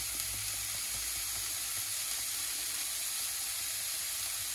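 Eggplant sautéing in a pan while making a confit of aubergines with cherry tomatoes gives a steady, fairly quiet sizzle and hiss that runs without a break and without talk.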